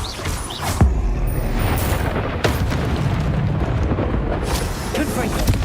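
Confringo spell explosions in the Hogwarts Legacy video game land as several booming blasts and sharp bursts amid constant game combat noise, with a voice talking over them.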